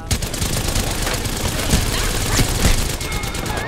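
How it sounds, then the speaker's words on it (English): Rapid video game gunfire bursts in dense, steady volleys throughout, with sharper shot peaks standing out near the middle and end and a constant busy game soundscape beneath. "I think I was accidentally shooting Nikki."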